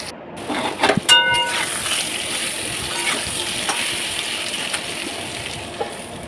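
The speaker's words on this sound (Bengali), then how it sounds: "আলুটা বেশ কিছুক্ষণ সময় ধরে ভালো করে ভাজবো।" Salted, turmeric-coated potatoes frying in a pan for vegetarian aloo dum, a steady close sizzle with a few stirring clinks and scrapes near the start.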